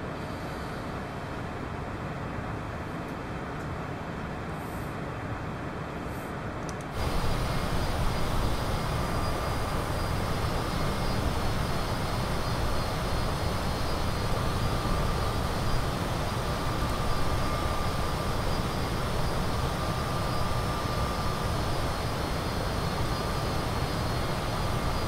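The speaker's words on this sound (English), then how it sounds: "So we'll cut the music. Go with just the sounds, the sweet, sweet sounds of aeroplane." Citation CJ4 business jet engines in Microsoft Flight Simulator 2020, a steady loud broadband roar and whine that jumps louder partway through and then holds constant, with no talking.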